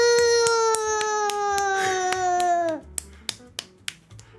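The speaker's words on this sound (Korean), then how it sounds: "아니 왜 박수 치냐?" Sharp hand claps fall in a steady rhythm, a couple each second, first beneath a long sustained wailing tone, then continuing alone after it cuts off.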